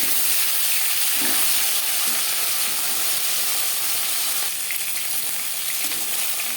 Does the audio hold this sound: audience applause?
no